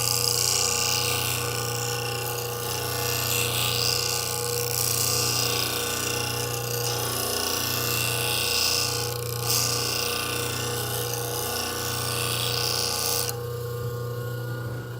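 A plane blade is sharpened on a stone with continuous rhythmic scraping strokes, close and steady over a low hum, ending abruptly near the finish, with no talk.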